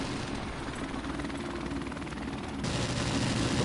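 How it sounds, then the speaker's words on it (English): A helicopter in Call of Duty Modern Warfare drones as a steady whirring rotor, with scattered gunfire-like crackle in the game mix and a slight rise in loudness near the end. "I hear the helicopter"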